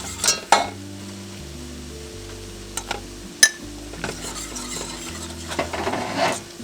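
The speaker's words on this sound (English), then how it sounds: "So I'm just going to start with butter. And now that that's melted, I'm going to add enough flour to soak" A roux of melted butter and flour cooking for white sauce, gentle hissing under occasional sharp clinks and scrapes of a utensil against the pan, close by, with no voices.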